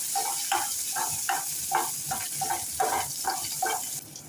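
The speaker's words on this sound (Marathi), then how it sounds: "थोडं बारीक चिरलेलं अद्रक आणि लसूण बारीक कापलेली हिरवी मिरची आणि थोडीशी कोथिंबीर छान सगळं परतून घेऊया" Chopped ginger, garlic, green chilli and coriander sautéing with a little mustard seed in a pan. Soft sizzling sits under a steady, rhythmic run of about ten spatula scrapes and stirs, heard close but fairly faint.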